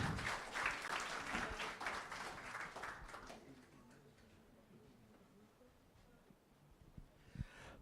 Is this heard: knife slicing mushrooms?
no